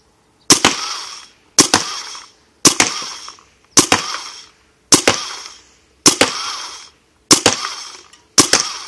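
A Dangerous Power G5 paintball gun fired from the tank during a kick test, giving eight sharp, loud pops at a steady pace of roughly one per second, each with a brief ringing decay.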